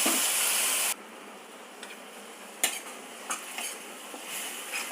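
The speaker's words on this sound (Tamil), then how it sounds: "ஒரு 2 நிமிஷம் இந்த நெய்யில் வதக்கி விட்டால் போகிறோம்" Ground paste sautés in ghee in a pan for araithu vitta rasam with curry leaves. A loud sizzle fades after about a second, then a few sharp spoon scrapes and clinks follow against a soft, ongoing fry.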